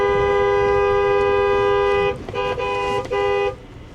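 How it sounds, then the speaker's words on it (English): A truck horn honks on a ranch, a loud, steady close blast for about two seconds followed by a couple of shorter choppy toots. "let's give them the old horn"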